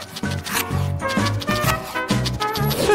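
Homemade bread being sliced with a knife, a series of rough rasping sawing strokes in an irregular rhythm, close and fairly quiet, with no talk.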